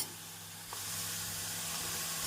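Carrots sauté in a hot pan, giving a steady, close, hissing sizzle that grows slightly louder partway through and holds evenly, with no talk.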